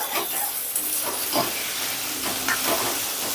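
Turmeric sizzling in hot oil in a pan while being stirred, a steady close hiss of frying with soft scraping of the stirring, no talking.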